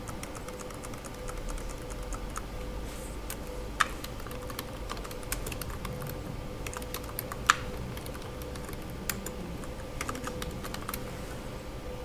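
Steady typing on a computer keyboard, with a continuous patter of close key clicks and a few sharper, louder strokes like the Enter key, over a faint background hum with no talking.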